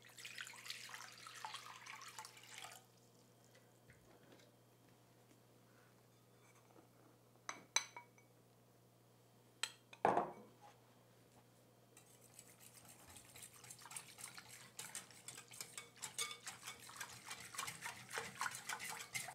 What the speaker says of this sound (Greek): Στο κρύο νερό διαλύουμε τον ζεστέ.